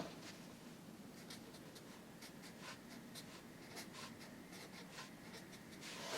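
A pen or pencil writes words on paper, giving a steady close scratching with quick strokes and taps throughout, alone without talk.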